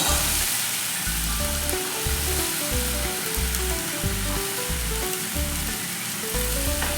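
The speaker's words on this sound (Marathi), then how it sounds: "आता मी हे चिरलेली भेंडी यामध्ये घालून घेत आहे" Chopped okra frying in a pan, a dense continuous sizzle heard close and loud, with rhythmic background music underneath.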